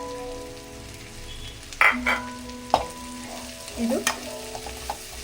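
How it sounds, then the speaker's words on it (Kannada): Chopped onions are added to a pan with chili-garlic-ginger paste and fry in a low, steady sizzle, broken by a few loud clattering stirs against the pan; a single short word is spoken. "ಈ ಹಂತದಲ್ಲಿ ನಾನು ದೊಡ್ಡಗೆ 2 ಈರುಳ್ಳಿನ ಕಟ್ ಮಾಡಿ ಇಟ್ಕೊಂಡಿದ್ದನ್ನು ಸೇರಿಸ್ತಾ ಇದ್ದೀನಿ"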